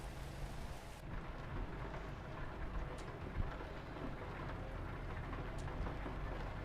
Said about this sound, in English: Oh, there goes the rain.